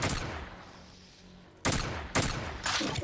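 A dual burst gun fires in a video game: three loud, sharp bursts spaced about half a second apart, following a stretch of quieter background noise.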